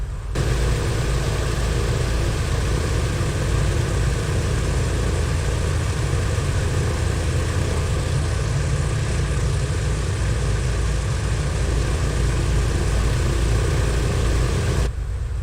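Steady, loud drone of a turboprop aircraft engine with propeller hum in a flight simulator, a continuous even roar at constant power that runs unbroken from start to end with no talking.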